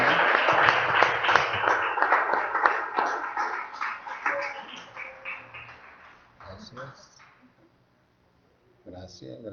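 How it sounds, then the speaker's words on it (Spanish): Church congregation applauding loudly during a Spanish-language worship service, a dense sustained clapping wash with voices calling out, fading off toward the end before a brief burst of speech. "Dele el aplauso fuerte al Rey."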